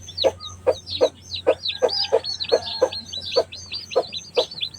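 A hen clucks steadily among newly hatched chicks, with rhythmic close clucks and high peeping chirps repeating throughout, no talk over it.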